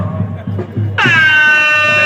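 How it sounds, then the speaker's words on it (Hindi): Crowd noise and a voice murmur in the background at a semifinal sports match, then a loud, bright blast from a hooter horn cuts in and holds steady. "हुटर की आवाज"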